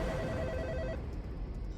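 A telephone rings on the other end as a call is placed to a county sheriff's department, a steady electronic ring tone for about a second, then a low hum of the line.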